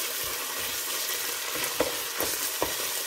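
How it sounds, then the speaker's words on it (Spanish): Sofrito frying in a pan, a steady close hiss of sizzling oil with a few soft stirring scrapes breaking through, no voices over it. "Ahora sofreímos hasta que el sofrito esté flojito, flojito."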